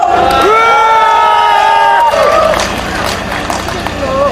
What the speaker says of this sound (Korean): 함성으로 맞이해 주십시오.